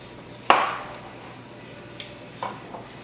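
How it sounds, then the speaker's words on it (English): A knife cuts disc-shaped slices from a cucumber on a board, one sharp chop ringing out early, followed by a few lighter, scattered cuts in a quiet room. "all you want to do is cut disc-shaped slices from your cucumber"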